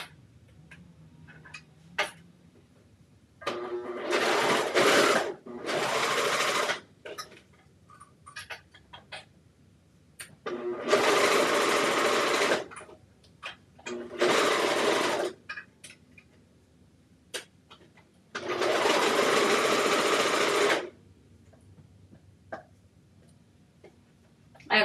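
A serger stitching a 3/8-inch seam on a Rockford raglan garment runs in several loud sustained bursts of a few seconds each, separated by short pauses with faint handling sounds.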